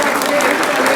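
Dense, continuous applause from an audience at a college magazine event, steady and loud for the whole moment with a faint murmur of crowd underneath.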